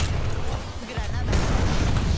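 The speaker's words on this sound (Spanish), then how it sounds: "Lanzando granada de termita." Thermite grenade going off in the video game Apex Legends: a dense, rumbling burst of crackling noise that swells partway through and keeps roaring steadily to the end.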